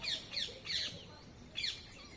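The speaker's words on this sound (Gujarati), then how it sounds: "પક્ષીનો અવાજ સંભળાતો હોય તો જો તમે સંભળાવું" Birds chirping in village farmland, a few short bright chirps in quick bursts, fairly close, with a pause before a final call over faint background noise.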